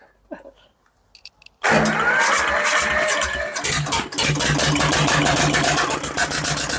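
An Ursus C330 tractor with no muffler cranks after a few faint clicks and then roars to life, its loud, raw diesel running as a rapid, rough chugging that stays close and fills the rest of the clip.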